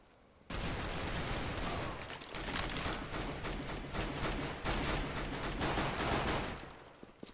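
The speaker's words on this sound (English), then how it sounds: "someone's shooting at me" Sustained gunfire in a Counter-Strike: Global Offensive competitive match, a loud, continuous barrage of rapid shots aimed at the player, lasting several seconds with brief dips before tapering off.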